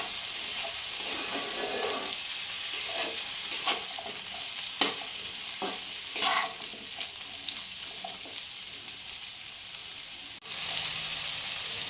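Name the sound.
frying lentils, pumpkin and potato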